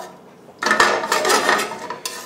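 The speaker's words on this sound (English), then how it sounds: "So we're going to just stir this up so it doesn't burn." A spoon scrapes and clanks inside a pot as white rice is stirred while it heats to brown, with a loud, close run of metallic scraping and knocks lasting under two seconds.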